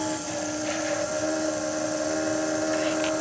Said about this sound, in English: if I now press the Joule Thief button and give it a little spin, hear that?